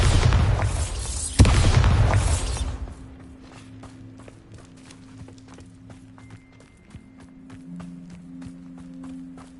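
A Bombarda blasting spell from Hogwarts Legacy erupts in a loud, roaring explosion with a sharp crack in the middle, lasting about three seconds. It fades into quieter, rhythmic in-game footsteps.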